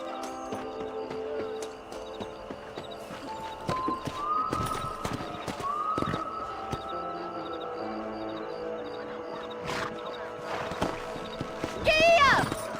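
A horse in the Red Dead Redemption video game clip-clops at a gallop with rhythmic hoofbeats and lets out a whinny, set against game music and ambient sound, while voices talk over it.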